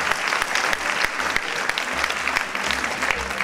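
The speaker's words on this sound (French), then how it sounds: "Qu'on peut applaudir également." A hall audience at a Miss Lorraine 2011 beauty pageant bursts into sustained, dense applause, loud and continuous throughout with no talk over it.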